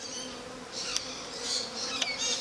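Steady insect buzzing from a crowd of honey bees around a backyard hive, a continuous hum with a few bees passing close by.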